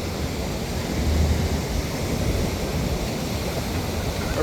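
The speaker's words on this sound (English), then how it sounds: "Just with a little bit of wind, a little bit blowish." Steady wind at a beach on an evening walk, a constant broad rushing roar buffeting the microphone, with surf mixed in and no pauses throughout.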